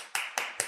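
Three sharp hand claps in an even rhythm, close and crisp, with short decays between them.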